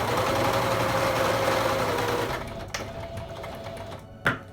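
A sewing machine runs steadily, stitching a fabric face mask for a couple of seconds before the motor winds down, followed by a few sharp clicks and a brief knock near the end.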